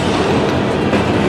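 An empty Norfolk Southern coal train rolls past up close at a railroad festival in Appomattox, Virginia, giving a loud, continuous rumble and wheel clatter with no voices.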